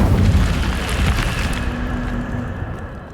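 Incendio fire spell blast in Hogwarts Legacy, a loud rumbling whoosh of flame that rolls and slowly fades over a few seconds, no speech.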